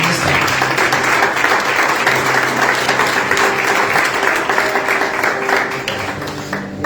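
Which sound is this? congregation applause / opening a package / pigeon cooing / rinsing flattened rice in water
congregation applause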